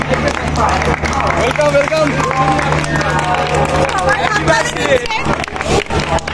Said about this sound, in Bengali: সবাই হাততালি দিয়ে ট্রেনকে স্বাগত জানাচ্ছে।